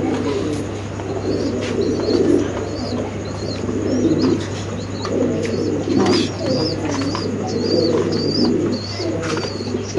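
Spanish pigeons coo repeatedly in a loft while feeding their chicks, a close, rhythmic series of throaty coos over a steady low hum, with soft chirps and occasional wing or body movements.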